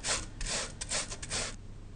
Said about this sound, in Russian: Тем временем натираем на мелкой терке вареную свеклу